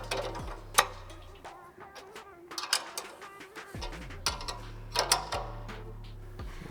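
A bolt being tightened on a Morimoto LED light pod bracket on a Cybertruck CTX bumper, with sporadic close metallic ratchet clicks and taps in short irregular bursts over a low drone, no talking.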